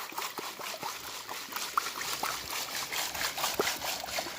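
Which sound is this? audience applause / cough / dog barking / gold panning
gold panning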